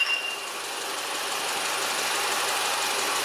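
An Audi A5 with a 1.8 TFSI engine, code CJEB, idles at normal rpm after a crankcase ventilation valve fault. It gives a steady, even mechanical hum, close and unbroken, with no voices.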